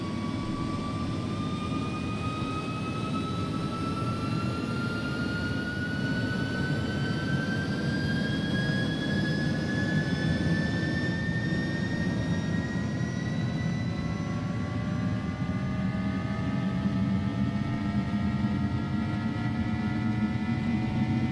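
Airbus A306 jet engines spool up to takeoff thrust in X-Plane 11, a loud steady roar with rising whine tones sweeping upward throughout, continuous and close with no talk.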